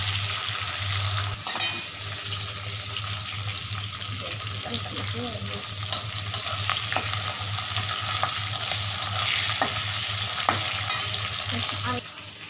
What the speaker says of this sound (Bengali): আস্তে আস্তে নাড়তে থাকবো।